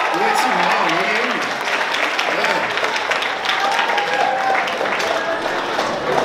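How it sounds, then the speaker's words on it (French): Audience at a secondary school Christmas concert applauding, a steady roar of clapping and crowd noise with voices and cheers mixed in over the top. "Une bonne main d'applaudissements pour Maël, encore une fois."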